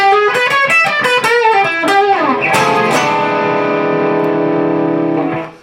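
A distorted electric guitar plays a quick lick of bent, picked notes from a song's outro, then lets a final chord ring out and fade.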